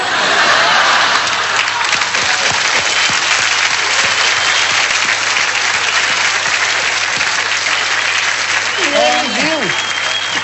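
Studio audience on a Brazilian talk show applauds steadily and loudly throughout, a dense crowd clap sustained the whole time, with a voice speaking over it near the end.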